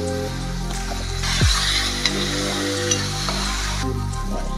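Mushrooms fry in a pan as soy sauce and green chilli sauce go in, giving a steady close sizzle with occasional stirring scrapes and clinks, no voices.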